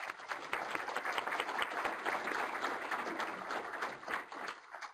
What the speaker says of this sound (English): So I'd like to give a round of applause to Greg.